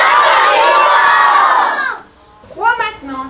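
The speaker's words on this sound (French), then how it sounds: "Un grand cocorico, tous ensemble." A group of children at a 2007 mini camp shout a long, loud cocorico together, a dense sustained cheer that fades out, followed by a short voice speaking.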